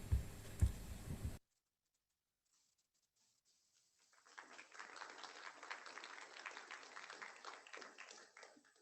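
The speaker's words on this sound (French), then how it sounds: "J'espère qu'ils ont entendu vos applaudissements" An audience applauds in a hall, with steady faint clapping that starts after a short silence and continues to the end, some distance away.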